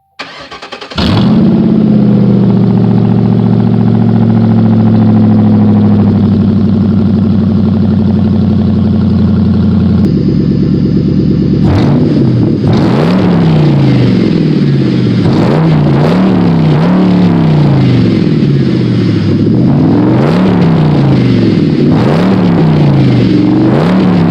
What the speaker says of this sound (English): You guys want to hear one literally hell of a fucking cold start?